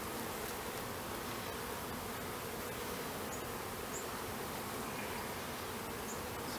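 Honeybees from a relocated feral hive buzz steadily during an open-hive inspection, a dense, continuous hum of many wings at fairly low level with no voices over it.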